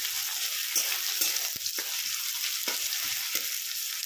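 Green chilies drop into hot oil as the first tempering for a corn dish, giving a steady, close crackling sizzle with a few sharper pops and stirring scrapes throughout.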